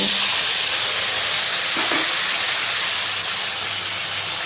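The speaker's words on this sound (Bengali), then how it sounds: "পনিরগুলো এখন আমি একটু হালকা করে ভেজে নেব।" Paneer cubes lightly frying in hot oil, a steady loud hiss and sizzle running throughout with no voices, one brief soft clatter midway.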